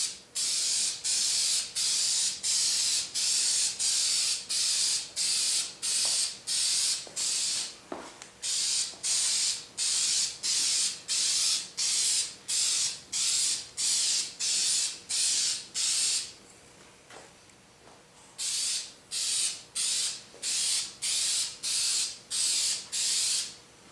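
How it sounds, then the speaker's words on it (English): Spray paint hissing in short, even bursts onto an airsoft gun in light coats, a steady rhythm of repeated close sprays with one brief pause midway. "the technique you're going to want to use to spray is basically light coats"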